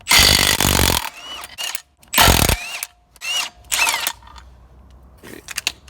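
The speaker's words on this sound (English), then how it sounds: "Now using our Milwaukee drill we can undo the nuts." Short bursts of a Milwaukee cordless drill whirring and rattling as it undoes car wheel nuts, several on-off runs with pauses between, close and loud.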